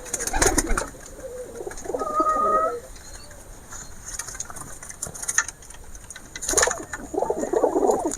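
Pigeons coo in a home loft holding breeds such as Lal Jiriya, Kalshira and Madras birds, with several soft coos and calls over a busy background and brief voice-like sounds.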